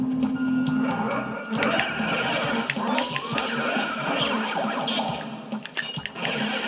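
In the video game Luigi's Mansion, a vacuum sucks at a ghost with a wavering, whooshing rush mixed with shifting electronic game tones, continuous and fairly loud throughout.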